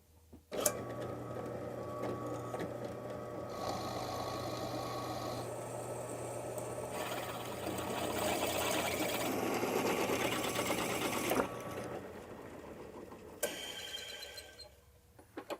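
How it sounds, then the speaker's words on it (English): Holes being drilled in steel channel while building a large edge sander: a steady, close mechanical whir with a constant hum runs for most of the stretch, grows harsher midway, then cuts off, leaving a few sharp clanks. "Well, I've got all the holes drilled."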